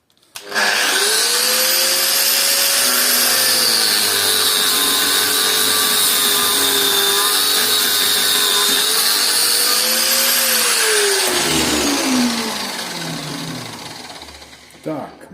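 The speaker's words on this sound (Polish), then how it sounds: "Albo możemy też szlifierą poszlifować sobie." Angle grinder cutting open a copper solenoid, a loud, continuous high whine that holds steady for about ten seconds, then drops in pitch and winds down as the cut finishes.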